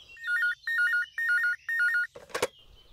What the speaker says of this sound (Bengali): পরদিন সকালে অফিস থেকে ফোন আসলো অমরের।